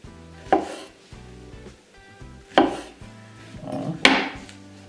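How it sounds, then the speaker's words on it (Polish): A knife cuts bananas into strips a few centimetres long, making three separate sharp chops about one and a half seconds apart, close and distinct, over a quiet tonal background with no voices. "Banany kroimy teraz w takie kilkucentymetrowe paski."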